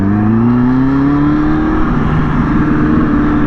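Kawasaki ZX6R motorcycle engine while riding, a loud, close, continuous drone whose pitch climbs steadily as the bike accelerates, with wind rush underneath.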